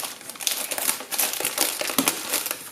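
Plastic packaging crinkles and crackles from an unboxed VQ/Nexa Hurricane 60 model airplane kit, with the bags holding its fuel tank and cowl handled close up in steady, busy rustling bursts with no talking.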